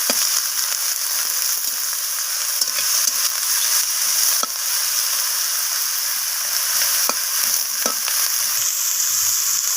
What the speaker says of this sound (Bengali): তো আমি সব কিছু একসাথে আবার নাড়াচাড়া করে একটু ভাজা ভাজা করে নিচ্ছি।